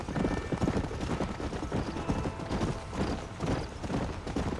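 Horse hooves clip-clop in a steady, even rhythm in the video game Red Dead Redemption, close and continuous for several seconds with a faint background hum.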